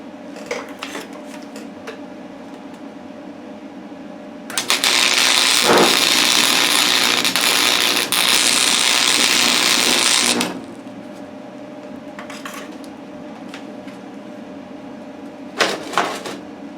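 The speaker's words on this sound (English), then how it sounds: "I'm going to try and weld this angle on the corner of this cast iron" An arc welder fuses a steel angle onto the corner of a cast iron fire pit grate: a loud steady crackling buzz lasting about six seconds, framed by quieter shop clanks and brief bursts.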